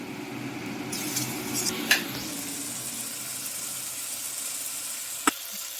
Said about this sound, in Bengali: ভালো করে এটা কষিয়ে নিচ্ছি